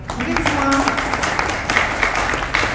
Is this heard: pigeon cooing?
no